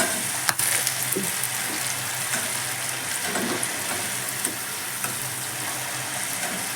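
Food deep-frying in hot oil until crispy, restaurant style, giving a loud, continuous close sizzle and bubbling with faint stirring clicks throughout, no voices.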